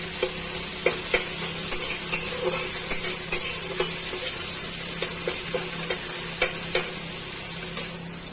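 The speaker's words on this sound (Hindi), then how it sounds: "टमाटर को हम अच्छे तरीके से भून देंगे।" Chopped tomatoes frying in a pan, a steady close sizzle with a spoon scraping and stirring at irregular moments, no one talking.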